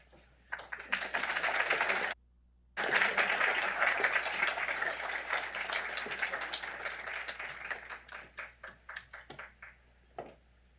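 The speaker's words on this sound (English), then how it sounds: "let's give another round of applause to the first panel" Audience applause for a panel at a talk on classical education breaks out, pauses briefly, then resumes as a dense round of clapping that thins into scattered claps and fades away.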